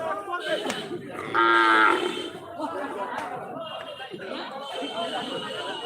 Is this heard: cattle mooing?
yes